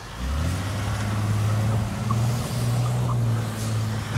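A turbo Cruiser car accelerates hard and drives fast, its engine giving a loud, steady droning growl that climbs slightly in pitch for several seconds with no talking over it.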